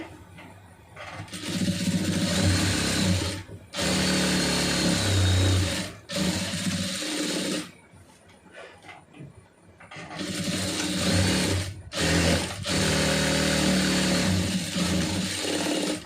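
A sewing machine stitches the side seam of a lined blouse, running in loud steady bursts of mechanical whirring and rattling with brief pauses between runs, close up and alone.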